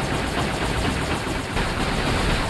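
Rocket guns firing in the mech combat game War Robots, a dense continuous barrage of explosive blasts and rapid bursts filling the whole stretch at steady loudness, with no talk over it.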